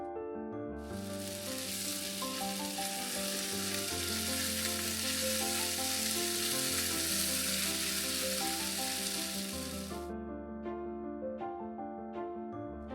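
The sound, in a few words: marinated meat stir frying in a pan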